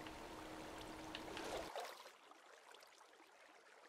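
Water flowing out of a placed source block in the video game Minecraft, a steady close trickling stream that thins to a lighter babble partway through, with no talk.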